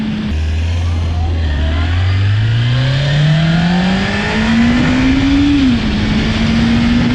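A motorcycle engine, just reassembled after a fork seal replacement, revs steadily upward on a test ride, its pitch climbing continuously over several seconds before briefly dipping, loud and close with no talking.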